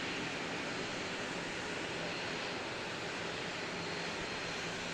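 A small Sounds Air passenger plane at Christchurch Airport gives off a steady, fairly faint engine roar. The wideband hum holds even for the whole stretch, with no voices over it.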